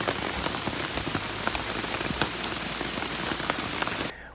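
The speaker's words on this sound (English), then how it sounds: "me and Mac got absolutely dumped on by rain" Heavy rain pours steadily onto camping gear at a mountain campsite during a bikepacking trip, a dense, loud hiss of drops drumming and pattering nonstop, cutting off abruptly near the end.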